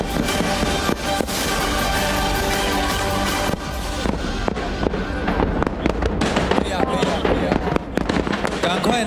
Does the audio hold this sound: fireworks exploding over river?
yes